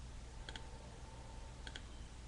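Two quick double clicks of a computer mouse in Photoshop, one pair early and another a second later, crisp and close over a faint steady room hiss.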